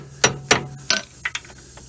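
A ratchet clicks as a brake caliper bolt is run in on a 1996 Chevy Blazer 4x4, a few sharp close metallic clicks in an uneven rhythm, some fainter, no talk.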